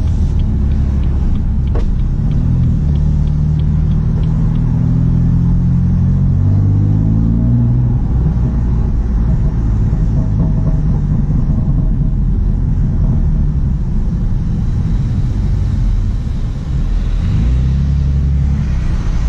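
A loud, deep BMW M3 F80 Competition engine rumbles continuously up close, with a couple of rising revs early on and a steady throaty idle throughout.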